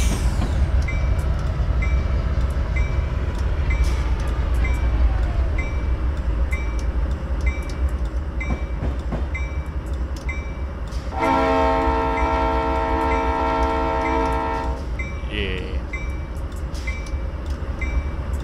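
A train rumbles steadily along the main line with rail noise throughout, and a long, loud multi-tone horn blast sounds near the middle before fading back into the rolling clatter.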